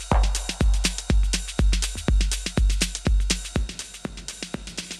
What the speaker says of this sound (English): And then we've got our drum room.